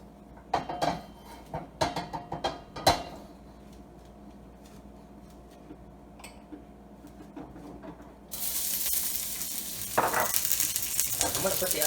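A heated wok gets a little oil swirled in for a chicken and broccoli stir fry. Sharp metal clanks and taps come first, then a loud, steady hissing sizzle swells up close and carries on to the end.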